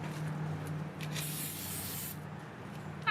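Goof Off aerosol sprayed onto a school bus being prepped for paint, a steady close hiss running about two seconds, then fading as the spray stops.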